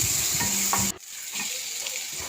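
Onion, curry leaves and tomato frying in oil in a pan, giving a continuous sizzle with stirring scrapes and a brief dip partway through as ingredients go in.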